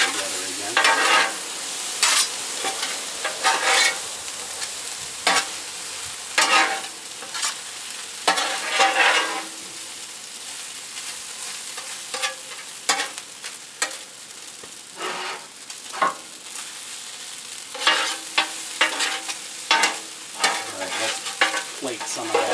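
Egg fried rice with shrimp is stir-fried in a pan, a close crackling sizzle broken by repeated sharp scraping and tossing strokes in an irregular rhythm.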